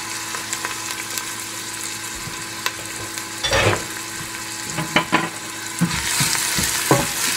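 Onion and chopped garlic fry in a pan with a steady close sizzle, broken by occasional scraping and stirring knocks and a louder sizzle burst toward the end, with no talking.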